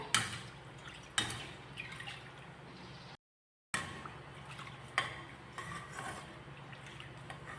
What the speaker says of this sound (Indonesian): Dan terus diaduk supaya santannya itu tidak pecah ya.